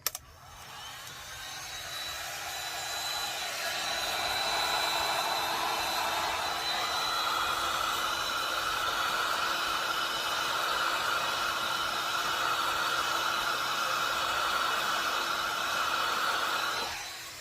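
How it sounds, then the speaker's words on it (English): A heat gun blows hot air onto a surface in a steady, close, breathy roar with a constant whine, running uninterrupted and unchanging, no voices. "So a little bit of heat gun noise here."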